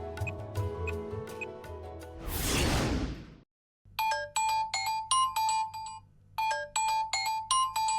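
A mobile phone plays a repeating melodic ringtone for an incoming call, close and clear in bursts. It follows earlier ticking and a loud whoosh, with a brief silence between.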